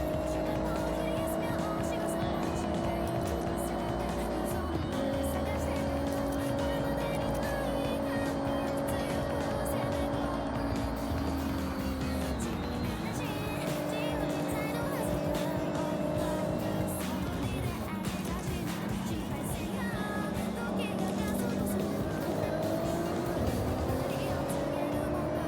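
Car engine in the Forza racing video game, a steady loud drone that rises and falls through gear changes as the car drives continuously, with tyre and road noise and no talking.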